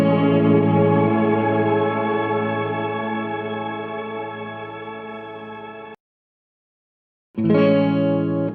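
An electric guitar chord rings through a TC Electronic Hall of Fame 2 reverb pedal, sustaining and slowly fading with a long decay tail, then cutting to silence before a fresh chord strikes loudly.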